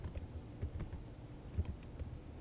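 Rapid keystrokes on a computer keyboard while coding a Python data-analysis plot, an irregular run of soft, close clicks with a few louder taps and no talking.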